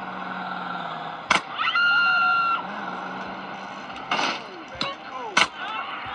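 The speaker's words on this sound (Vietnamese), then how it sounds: "Đội sau đang bắn súng." Gunshots ring out in GTA San Andreas as a few sharp, loud cracks scattered among engine noise and other game sounds, with no speech over them.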